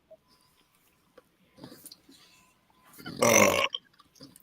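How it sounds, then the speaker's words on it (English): A loud, broad burp of about half a second rises out of quiet room tone during a Spurs versus Manchester City football watch-along, framed by faint murmurs before and after. "The burp that was heard around the world."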